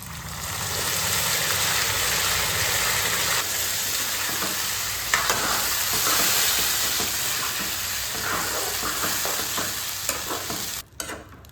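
Onions with bay leaf, cumin and masala paste fry in mustard oil for a village-style mutton curry, a steady loud sizzle with frequent stirring scrapes and clinks, ending in a sudden clatter near the close.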